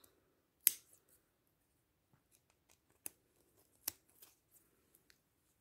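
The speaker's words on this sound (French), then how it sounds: "je passe forcément mon ciseau dans la rangée d'en dessous" Scissors trim a yarn pompom for an Easter sheep craft, making a few sharp, quiet snips spaced apart in a near-silent room.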